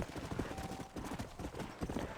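Horse hooves in Red Dead Redemption clopping at an even trot, rhythmic soft thuds repeating close by, fairly quiet and alone.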